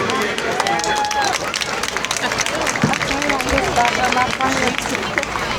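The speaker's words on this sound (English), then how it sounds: "Big round of applause for our People of the Year." A crowd at a football coaches' awards event gives the People of the Year a round of applause, sustained clapping mixed with cheering and chatter from many people in a large room.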